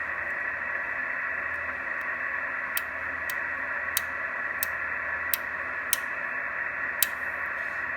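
Steady hiss of static from a Drake TR4 shortwave receiver on the 80-meter band with its noise blanker on, broken by sharp, irregular ticking clicks every second or so, fairly loud and constant.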